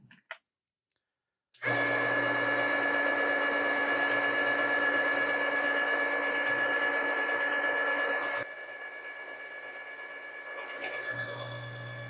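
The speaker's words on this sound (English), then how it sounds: "So here we go to do some trimming." A power case trimmer cuts 7mm PRC rifle brass cases to length, a loud steady motor whine starting abruptly after a brief quiet moment, holding for several seconds, then dropping to a lower, quieter running hum near the end.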